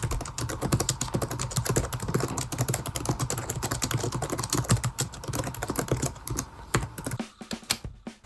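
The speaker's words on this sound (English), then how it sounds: "it does have a super nice keyboard to type on with good travel" Steady, rapid typing on the keyboard of a Dell Latitude D620 laptop, close and clear with dense key clicks, stopping abruptly near the end as a few scattered keystrokes trail off.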